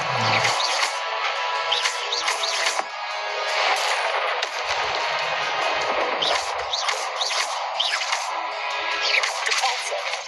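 The Expelliarmus disarming spell in Hogwarts Legacy fires amid a dense, loud wash of combat effects, with sharp crackling bursts and swooshes layered over continuous game ambience.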